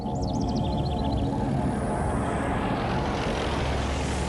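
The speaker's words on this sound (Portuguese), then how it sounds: "Embora o avião fizesse um barulho estranho" An airplane roars overhead with a strange, dense, continuous broadband rumble that stays loud and steady throughout, with faint high chirping near the start.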